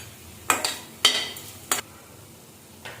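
Sesame seeds and a lemon-sized lump of tamarind dry-roast in a pan for drumstick-leaf spice powder, giving a few short scraping stirs spaced apart over a faint steady background, no talking.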